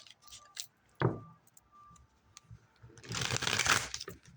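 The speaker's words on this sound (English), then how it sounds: "One more shuffle." Tarot cards are shuffled by hand, with a few soft taps and flicks early on, then a brief burst of riffling toward the end, fairly quiet and close with no talking.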